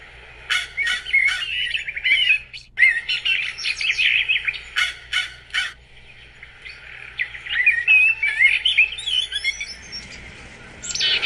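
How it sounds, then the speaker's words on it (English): Backyard birds in a Nova Scotia winter keep up steady chirps and tweets, with some calls near and others farther off, and a faint low hum stays underneath throughout. "So I can hear lots of birds all around me."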